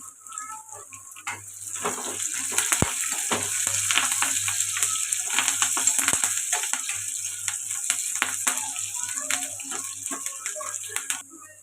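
Onions and curry leaves fry in a pan with a steady, close sizzle and crackle that runs throughout, with occasional sharp spits and stirring scrapes.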